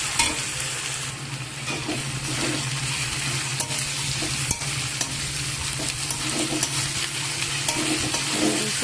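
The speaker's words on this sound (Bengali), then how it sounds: "সব পেঁয়াজগুলোকে দিয়ে ভাজা ভাজা লাল লাল করে ভাজা করে নেব" Chopped onions fry in a pan for a meat curry, a loud, steady sizzle close by with repeated scraping of the spoon as they are stirred, and no one talking.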